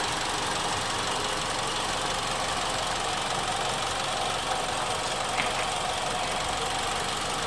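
A Mitsubishi Outlander Sport engine idles steadily up close, a continuous rough hum with a faint knocking texture and no voices.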